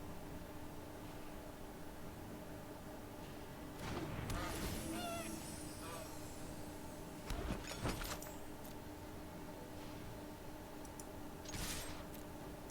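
Goose honks from the Golden Goose card in MTG Arena come in a few short, brash bursts spaced apart over a steady background hiss.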